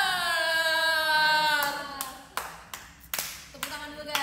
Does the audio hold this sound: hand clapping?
yes